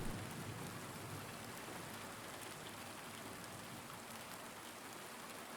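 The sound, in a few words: rain in the video game Silent Hill 2 Remake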